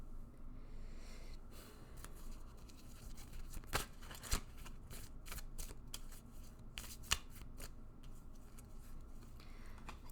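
Tarot cards are shuffled close by in a quiet room: a string of soft riffling and slapping bursts with sharper snaps, faint overall, and no one speaking.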